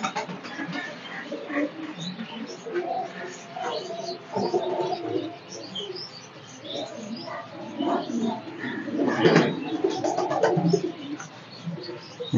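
Gringo pigeons cooing repeatedly at close range, soft throaty calls overlapping with chirps and faint rustling, continuous throughout with someone talking intermittently among them.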